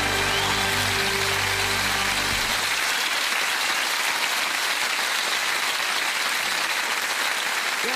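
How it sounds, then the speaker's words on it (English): A theatre audience at a Brian Conley stage show cheers and claps loudly and steadily throughout, with a dense wash of applause; a low musical tone holds underneath for the first couple of seconds. "The only sound I want to hear is a cheer and some applause."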